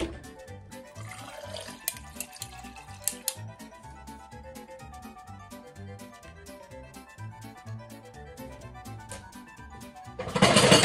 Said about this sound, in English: Now I'm just getting some water